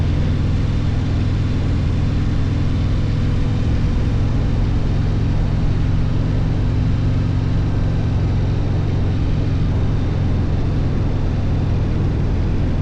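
Harley-Davidson Breakout 117 motorcycle ridden slowly, a loud, steady low engine rumble with wind noise running throughout, no voices.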